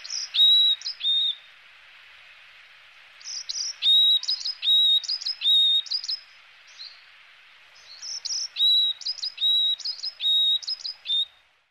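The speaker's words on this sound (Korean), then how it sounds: "이 소리는 이제 쯔쯔비 쯔쯔비 이렇게 하는데, 이 새가 곤줄박이라는 새입니다" Varied song of a varied tit, repeated bright two- and three-note phrases in clear bursts with short pauses between, moderately near against quiet background.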